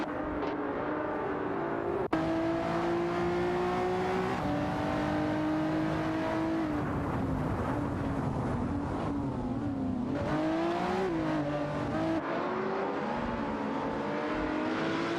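Synthetic engine notes of AI-driven race cars, Ferrari FFs and a Lamborghini Murcielago, in a racing video game, sustained revving with rising and falling pitch sweeps as cars overtake, steady and loud throughout.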